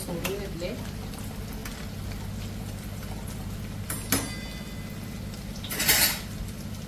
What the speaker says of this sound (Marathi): यांना व्यवस्थित फ्राय करते दहा मिनटं बारीक फ्लेमवर